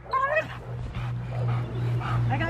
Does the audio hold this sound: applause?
no